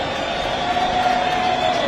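At a football match, a stadium crowd makes a broad, sustained roar of cheering, with a steady wash of voices and a thin whistle-like tone running through it.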